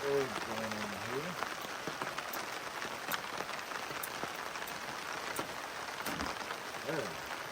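Rain falls steadily on a campsite where pork chops sit on a grill, a dense patter of drops on surfaces with brief voices at the start and near the end.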